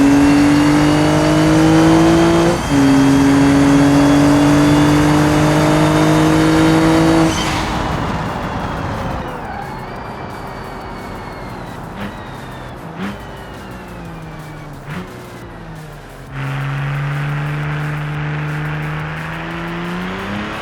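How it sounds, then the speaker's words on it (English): A car engine in the driving game BeamNG revs hard through the gear changes, then drops to a lighter, quieter running tone before loud revving returns near the end, with no one talking. "the sound of the motor there is beautiful"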